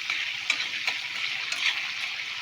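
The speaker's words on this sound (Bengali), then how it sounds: "রসুনটা একটু ভাজা ভাজা হবে" Chopped garlic sizzles in a hot wok for fried rice, a steady close crackle of frying with a few louder pops and spits, and no talking.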